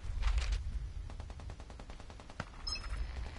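Distant gunfire in the video game Vigor, a quick run of faint, evenly spaced shots followed by one sharper crack, heard quietly over low background noise.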